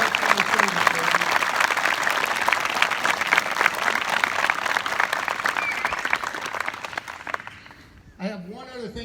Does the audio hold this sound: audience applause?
yes